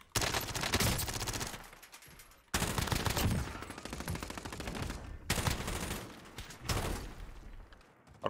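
Minigun gunfire in a video game, long sustained bursts of rapid automatic fire with brief pauses between them, loud and close.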